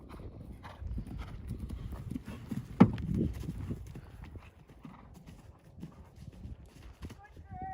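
Horse hooves clip-clop on the ground in an uneven rhythm, with a faint snort and some quiet voices in the background.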